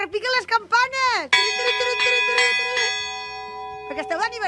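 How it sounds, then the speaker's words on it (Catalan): Church bells in Moixent peal under manual ringing, loud and near, with ringing tones overlapping and sustaining. Strikes repeat irregularly and let long resonant tails hang between them, and a voice is heard briefly. "que repiquen les campanes!"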